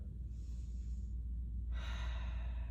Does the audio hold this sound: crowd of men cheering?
no